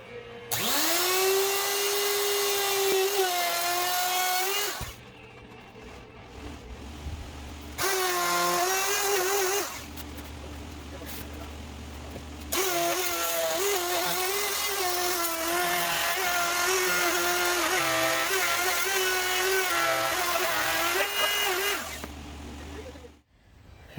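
A power tool cuts plywood for a van floor, its loud, high motor whine running in three long bursts separated by brief quieter pauses.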